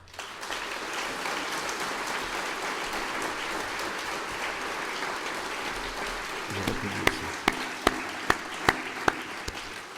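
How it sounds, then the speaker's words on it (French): Audience applause for producers and artisans at a New Year's greetings event in the Bourbonnais, sustained crowd clapping that thins out toward the end, leaving a few loud, distinct individual claps. "je vous invite à saluer chaleureusement par vos applaudissements nos producteurs et artisans."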